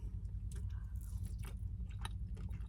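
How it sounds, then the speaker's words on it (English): Someone bites and chews crunchy fried tofu close up, with a run of crisp crunches and moist squishy chewing at an irregular rhythm and no talk. "try the tofu and let me know what you think. It's good, isn't it? It's nice and crunchy."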